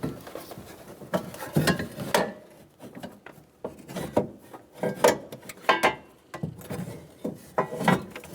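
Ratchet wrench tightening bolts on the AC condenser bracket of a 2014-2018 Chevrolet Silverado, with aluminum tubes nearby; a string of short clicking and rubbing mechanical bursts, close and moderately loud, with pauses between strokes and no talk.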